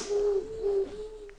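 Pigeons coo nearby in a low, hollow, drawn-out call that wavers and repeats, standing alone over a soft background hiss.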